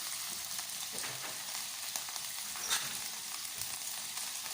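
Cabbage drops into a hot pan and fries with a steady broadband sizzle, one brief louder hiss near the middle, no talking.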